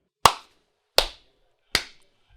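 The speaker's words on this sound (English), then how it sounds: "That was our best clap ever" Three sharp, loud claps from a group of college football show hosts, evenly spaced about three-quarters of a second apart, each crisp and quickly decaying, with silence between them and no talking.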